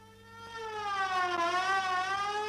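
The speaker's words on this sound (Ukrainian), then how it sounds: "Швидка допомога швидше до нас." An ambulance siren wails alone in a single rising and falling sweep, loud and close, in a Ukrainian children's cartoon.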